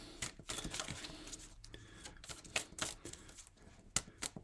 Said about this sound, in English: Please be patient while I do a bit of shuffling and cut another deck.